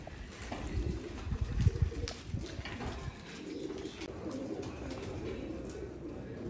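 Pigeons coo softly in low, throaty bursts against faint outdoor ambience and light wind, at a pigeon loft setup.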